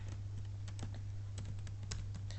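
A computer keyboard being typed on to enter a search term, a quick uneven run of light key clicks over a steady low mains hum.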